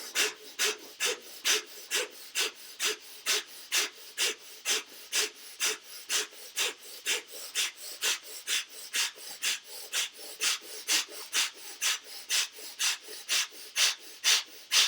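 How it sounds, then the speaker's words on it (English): Kapalabhati breathing, rapid forceful exhales through the nose at a steady fast rhythm, about two per second. The sharp breathy puffs are close and clear, with no talking. "And then begin Kapalabhati breathing."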